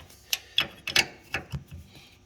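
Metal wrenches working a bolt on a Claas forage harvester during feedroll housing removal give a run of sharp clicks and clanks, about six separate knocks spaced unevenly over two seconds, close and fairly loud.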